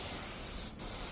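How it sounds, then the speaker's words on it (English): Cleaning agent pre-sprayed onto upholstery during a restoration cleaning, heard as a single brief hiss of spray against steady background noise. "So I'm gonna pre-spray this, pre-spray that, and I'm gonna do these two."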